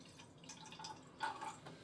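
A quarter cup of water is poured to dissolve calcium chloride crystals for making farmhouse cheddar, heard as a very faint, brief trickle and a few light drips close by.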